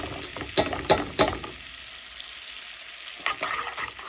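Honey-lemon pepper wing sauce bubbles and sizzles steadily in a pan over a grill fire at medium heat, with a few sharp clacks of a utensil in the first second and more stirring near the end.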